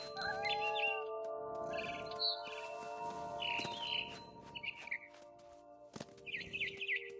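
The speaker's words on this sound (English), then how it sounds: "Then I heard chirping outside my window. It was a barn swallow going back to her nest." Barn swallow chirping in the What Remains of Edith Finch video game, with repeated bright twittering calls scattered over a steady ambient bed and faint movement sounds, no talk.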